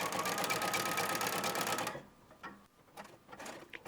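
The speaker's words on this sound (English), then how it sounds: "Close off the seam by stitching in the ditch from the right side" A sewing machine stitches in the ditch along a waistband seam on harem pants, a steady whirring run that stops abruptly partway through, leaving a few soft handling clicks and rustles.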